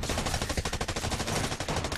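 Rapid gunfire from a competitive team shooter match, a dense run of sharp shots in quick succession filling the whole stretch, loud and close with no talking.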